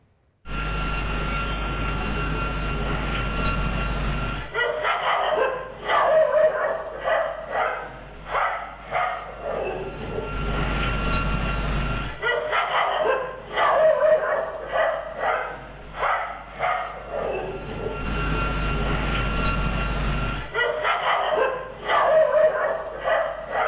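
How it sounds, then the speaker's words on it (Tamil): Stray street dogs barking in repeated bursts of sharp yaps and woofs, fairly close, over a steady background hum. "நாய்கள் குறைத்து உள்ளன"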